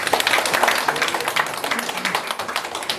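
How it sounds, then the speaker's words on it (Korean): Scattered applause from a small audience gathered at a neighborhood senior center, steady clapping lasting the whole stretch at moderate loudness with no voices on top. "다시 한번 박수 한번 부탁드립니다"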